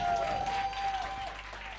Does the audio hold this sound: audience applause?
yes